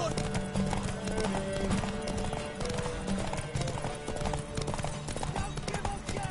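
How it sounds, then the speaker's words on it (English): Horse hooves clip-clopping in The Witcher 3: Wild Hunt, a steady, close rhythm of hoof beats layered under game music and ambient sound throughout. "Want that horse, don't ya?"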